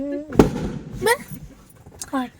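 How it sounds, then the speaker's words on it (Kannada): Firecrackers bursting in a village during a festival, a few sharp cracks scattered among nearby talk, with someone speaking over the bangs. "ಪಟಾಕಿ ಎಲ್ಲ ಹೊಡಿತಾ ಇದಾರೆ ಈಗ ಊರಲ್ಲಿ"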